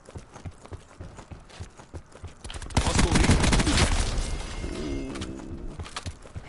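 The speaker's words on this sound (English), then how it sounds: "Headshot with the SMG at that distance" Rapid SMG gunfire in a video game shooter erupts as a loud, dense burst in the middle, preceded by sparse sharp clicks and pops and trailing off into a softer, wavering tonal sound with no talking.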